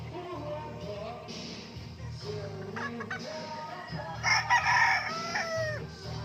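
Many chickens and roosters at a large poultry farm crow and cluck, overlapping calls near and far, with a loud cluster of crowing in the latter half.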